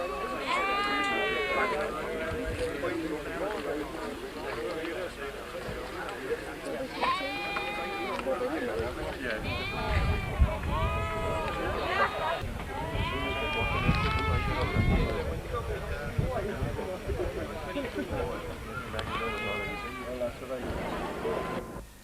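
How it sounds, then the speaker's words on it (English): Suffolk sheep at a young farmers' rally bleat repeatedly in pens, overlapping calls rising and falling throughout, with scuffling movement and voices talking nearby. "Some of our competitors are having a bit of trouble cornering the Suffolk sheep"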